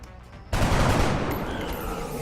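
Burst of gunfire in the XCOM tactical video game, a sudden loud volley of rapid shots that erupts after a quiet moment and rings out with a fading tail.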